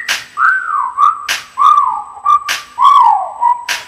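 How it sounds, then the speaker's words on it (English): Repeated sliding whistles, each rising then dipping in a wolf-whistle shape, alternate with sharp percussive hits in a steady rhythm, set within a song with loud, close whistles. "time to whistle at her"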